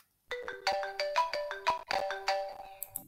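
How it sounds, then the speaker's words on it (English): A ringtone sound effect in a Scratch game: a bright, tuneful electronic melody of quick plucked notes begins after a brief silence and plays steadily and clearly, ending in a few higher chimes. "Looks like they did a ringtone"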